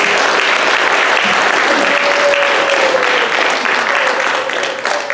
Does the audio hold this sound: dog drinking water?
no